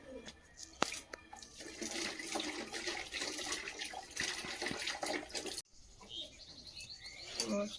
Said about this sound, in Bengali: হাত ধুয়ে ফেলো, কলে হাত ধুয়ে ফেলো